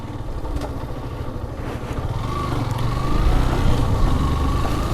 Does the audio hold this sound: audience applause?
no